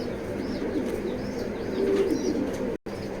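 A female racing pigeon coos in short, soft repeated phrases close by, with a brief dropout near the end and no talking over it.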